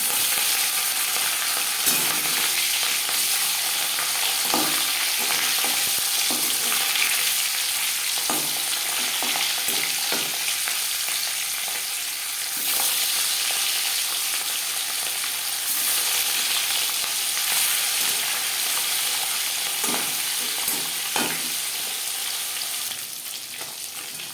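Marinated rohu fish pieces fry in hot refined oil, giving a loud, continuous sizzle with scattered crackles and sharp pops throughout.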